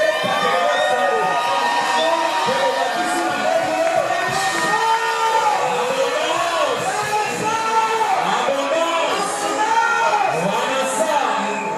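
Church congregation shouts, whoops and cheers for joy, a dense continuous crowd roar of many overlapping voices filling the room throughout.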